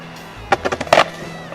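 An Atom B.10 electric skateboard with a 1000W belt drive rolling and braking to a stop, several sharp wheel clacks and a short grinding scrape, close and loud.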